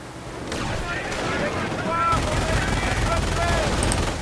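Gunfire and explosions from the Company of Heroes World War II strategy game rattle continuously in a dense, loud battle din, with a voice speaking over the fighting.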